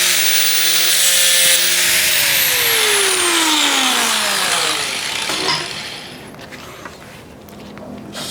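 Angle grinder fitted with a flat disc stripping coating off a metal cow tail sculpture, a loud high whine that drops in pitch as the disc bites, then rough scraping grind that tapers off toward the end.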